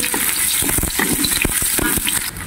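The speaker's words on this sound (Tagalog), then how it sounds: "I-fry natin muna." Chicken stir-frying with ginger and garlic in a hot pan, a loud, close, continuous sizzle broken by scraping stirs, with no talking.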